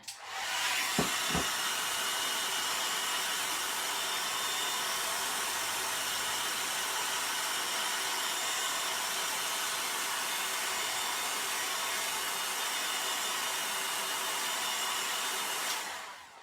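A hair dryer runs steadily and loudly for the whole stretch, drying a chalk-painted project, with a couple of brief clicks near the start and the motor cutting off at the end; no one speaks.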